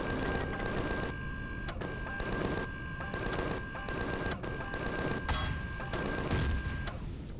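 Turrets in Empyrion Galactic Survival fire rapid, continuous bursts of shots with brief gaps between volleys, loud and close, while a faint steady tone runs underneath.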